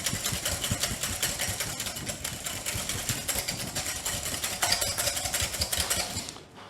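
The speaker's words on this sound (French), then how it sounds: "on va la fouetter une dizaine de secondes très très fort" A whisk beats homemade mayonnaise hard and fast in a bowl for about ten seconds, a loud, rapid, even rattle of wire against the bowl that slows and fades at the end.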